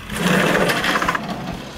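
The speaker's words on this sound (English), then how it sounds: "Then I drill two holes, which will become the handle of the tray." A power drill whirs close up as it bores holes into wood for a tray handle, a steady buzzing grind that fades slightly near the end.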